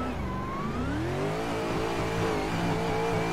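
Austin Meeks ATSV Pro Formula Drift car in a virtual-reality driving game, engine revving loud and steady throughout with pitch rising and sweeping as the throttle works, tire squeal mixed in, no talking.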